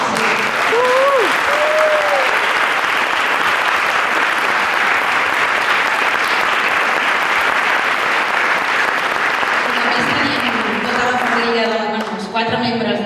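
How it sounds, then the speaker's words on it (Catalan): An audience applauds after a world-premiere concert performance at a convent venue, sustained dense clapping that fills the room, with a voice coming in near the end. "Un aplaudiment."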